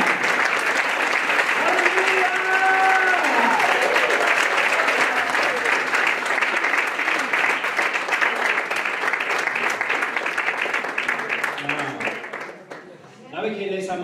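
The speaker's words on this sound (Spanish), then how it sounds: "Un aplauso más al Señor." A church congregation bursts into loud, sustained applause in praise of the Lord, the clapping dense and continuous before tapering off near the end, with a voice briefly rising over it.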